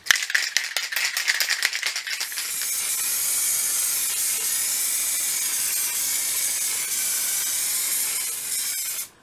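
An aerosol can of varnish rattles through a few quick shakes, then sprays a steady, close hiss across a sheet of waterslide decals for about seven seconds before cutting off.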